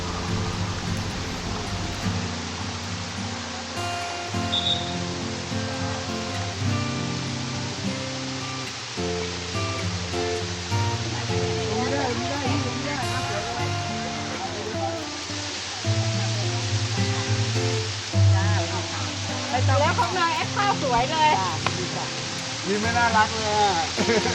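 Waterfall at the entrance of a floating market in a forest in Phetchaburi, Thailand, keeps up a steady broadband rush of falling water beneath music and voices of people nearby.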